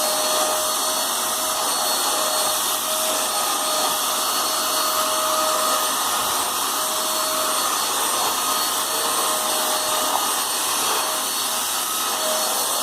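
An Eureka Forbes Trendy Nano vacuum cleaner runs continuously on a carpet with a steady, loud motor whine and airy suction hiss that holds evenly throughout.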